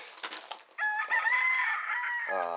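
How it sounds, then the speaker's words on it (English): A single rooster crows nearby, a long, strained cock-a-doodle-doo that rises and holds before trailing off, with faint clucks just before it. "It might be the neighbor's rooster, it might be wild roosters,"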